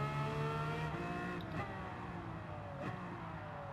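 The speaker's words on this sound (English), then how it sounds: "I can use Senna's F1 car" Senna's 1980s Formula 1 car roars in Gran Turismo 7, a steady, high-pitched engine scream that rises and dips as the throttle changes, loud and alone.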